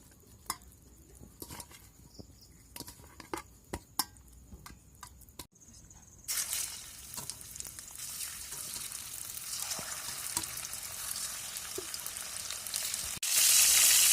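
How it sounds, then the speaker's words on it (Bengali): Pieces of sea fish coated in salt and turmeric fry in oil. A few sharp ticks come first, then a steady, close sizzle that grows louder and fuller toward the end. "হালকা করে ভেজে নেব এখন মাছগুলো"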